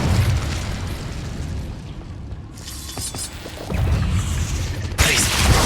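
An Incendio fire spell in Hogwarts Legacy erupts as a loud whooshing burst, followed by a dimmer lull, then another roaring blast and a sharp crackling pop near the end.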